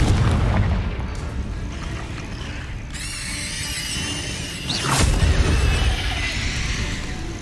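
A Confringo spell from Hogwarts Legacy hits with a heavy boom, then a shrill, squealing whoosh and a sharp burst, followed by a rumbling explosion over game combat noise.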